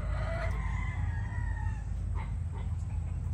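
Chickens and chicks at a poultry farm with gray and yellow-legged birds, a rooster crowing over steady clucking and peeping under a constant low background rumble.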